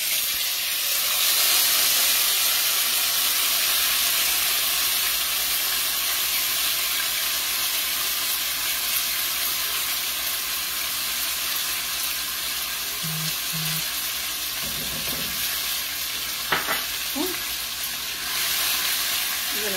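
Sofrito sizzles and fries in hot oil in a pan, a loud, steady crackling hiss that goes on throughout, with a few clinks and stirring scrapes near the end.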